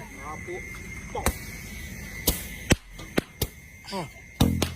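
Several sharp, loud bangs from firecrackers set off by children go off irregularly, popping nearby, with voices talking and exclaiming between the blasts.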